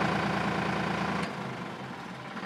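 A Sonalika DI 35 tractor engine idles with a steady low rumbling chug at close range, easing slightly in level partway through before a brief click at the end.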